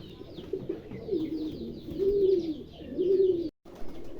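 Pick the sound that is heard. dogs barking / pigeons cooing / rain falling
pigeons cooing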